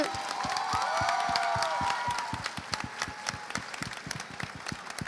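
Steady applause from an audience at the Rio Book Biennial, many hands clapping densely at first and then thinning into scattered, sharper claps.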